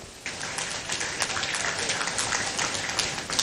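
An audience at a groundbreaking ceremony for the Kugbo bus terminal claps in a steady, even patter that starts abruptly and continues at moderate loudness.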